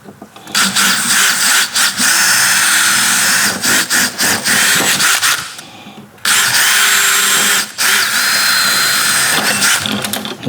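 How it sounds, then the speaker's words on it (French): A power drill bores out two rivets on a Ligier JS50 car door lock, whining loudly and close in two long runs with a short pause between, and a few stutters and catches along the way. "Ensuite, on va pouvoir percer nos deux rivets."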